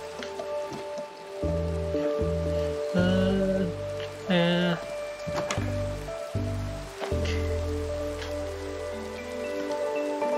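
Rain falls steadily in the Minecraft game as a soft, constant hiss on a rainy day, mixed with scattered tonal in-game sounds and short low thuds.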